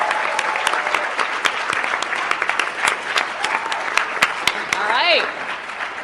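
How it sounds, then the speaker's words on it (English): An audience at a People's Summit gives a round of applause, with loud, steady clapping and scattered cheers for several seconds while a voice speaks briefly over it. "Round of applause."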